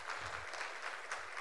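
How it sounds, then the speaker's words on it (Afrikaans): A church congregation claps for the Lord in a faint, steady patter of many hands, heard from a distance with no voices over it. "Kan ons die Here hande klap gee?"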